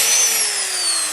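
A worn electric corded drill runs continuously at high speed, a steady loud whine with a faint tone gliding slowly downward, heard alone.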